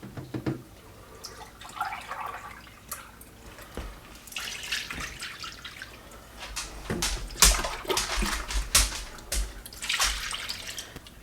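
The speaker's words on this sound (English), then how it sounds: "then we're going to add 2 cups of milk to each one" Milk pours into a baked oatmeal mixture with raspberries, making a close, continuous splashing and gurgling pour that grows louder and more bubbly toward the end.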